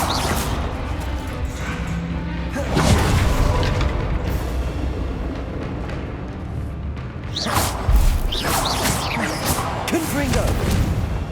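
Confringo fire-blast spells exploding in Hogwarts Legacy combat, two heavy booming blasts with whooshes a few seconds apart amid continuous battle noise and voices.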